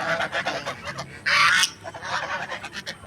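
Geese honk repeatedly in a grassy field, with a sharp, louder burst of honking in the middle of the clip and softer calls scattered around it.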